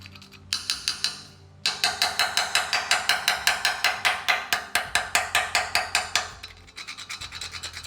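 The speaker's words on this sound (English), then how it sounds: "I'm just gonna give it some scratches with a screwdriver and see if it goes through" Screwdriver scraping cured rust-proof paint on the frame of a 1980 Toyota pickup truck, a close, steady run of rapid, even rasping strokes, loud and alone, with a slower, softer set of scratches at the end.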